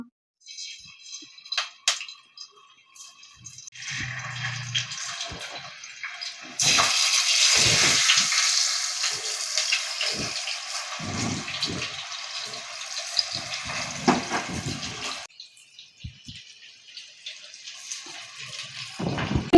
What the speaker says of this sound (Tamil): குழம்பு நல்லா தப்ப தப்பன்னு கொதிச்சுக்கிட்டு இருக்கு இங்க மீன் அப்படியே பொறிஞ்சுக்கிட்டு இருக்குங்க